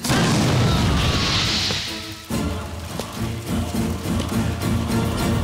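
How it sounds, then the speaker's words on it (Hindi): A bomb blast erupts in a dubbed Hindi action movie scene, a loud broadband boom and crash that rolls on with rumbling debris and smashing impacts for several seconds. "आज दोपहर को एक बम धमाका हुआ जिसमें कई लोगों की जानें गईं।"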